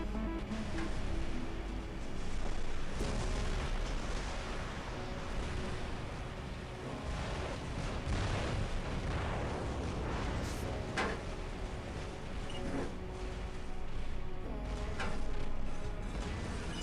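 Robots fire weapons in the War Robots game, a dense wash of rumbling blasts and sharp impact cracks repeating irregularly over a constant roaring background.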